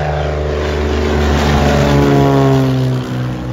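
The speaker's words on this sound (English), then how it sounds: "We've got a F33 Bonanza on roll." A Beechcraft F33 Bonanza single-engine propeller airplane on its takeoff roll at airfield TN44, a loud, steady engine drone with a rising propeller hum, close by and without voices.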